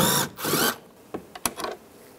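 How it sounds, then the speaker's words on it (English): Screws come out of a 1998–2010 Volkswagen Beetle door panel during a lock actuator replacement, with a Phillips head screwdriver making a few quick metallic scrapes and clicks after two louder bursts of tool noise at the start. "Now I'm going to use a Phillips head screwdriver. Take these two screws out."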